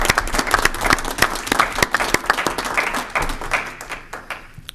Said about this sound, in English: So if you could join me in a round of applause, I think that would be nice.